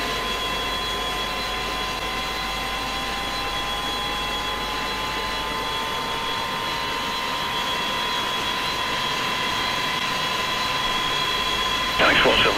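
A Boeing 727-200 jet engine spools up in a study-level flight simulator: a steady whine slowly rising in pitch and then holding level under a broad hum, with a brief louder burst at the end.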